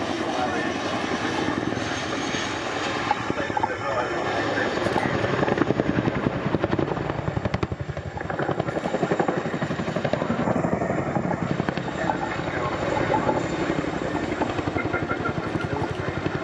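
Chinook helicopter decelerating through a handbrake turn during an RAF Cosford Air Show role demo, its heavy rotor thud and turbine roar loud, close and continuous throughout.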